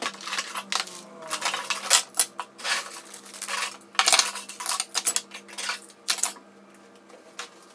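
Metal cutlery in a kitchen drawer clinks and rattles in quick irregular bursts, close by, with clattering pieces knocking together over several seconds; no voices.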